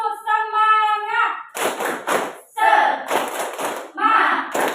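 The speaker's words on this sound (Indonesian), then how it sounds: "Bagaimana kalau kita tepuk semangat?" A classroom of students claps the rhythmic Indonesian 'tepuk semangat' cheer, with bursts of clapping alternating with a teacher's voice and the class chanting along, fairly close and lively.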